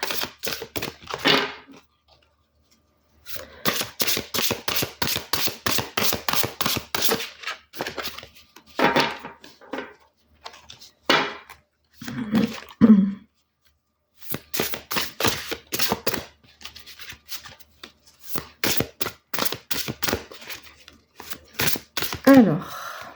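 Playing cards shuffled by hand in repeated rapid riffling bursts, each a dense flutter of crisp snaps lasting a few seconds, separated by short pauses and soft handling sounds, close and fairly loud.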